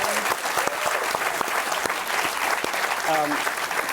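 Audience applause for panelists at a Paley Center event about FOX Sports and the FIFA World Cup 2026, sustained clapping with someone talking over it.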